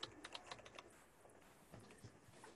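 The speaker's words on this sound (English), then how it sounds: "I'm typing in the email." Rapid, uneven keystrokes on a computer keyboard as an email is typed, clicking steadily and fairly quietly for a couple of seconds with no voice.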